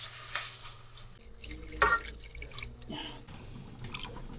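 Water is added to a cooking pot of chicken soup with soft drips and splashes, a faint brief pour midway and scattered small liquid sounds around it.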